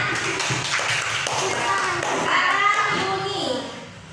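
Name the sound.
class clapping hands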